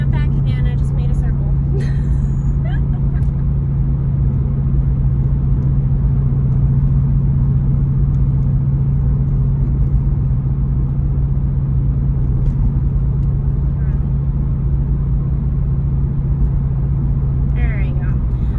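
A Subaru STI fitted with a K&N air filter drones steadily from inside the cabin while driving, its low exhaust hum constant for the whole stretch, with faint higher rattles near the start.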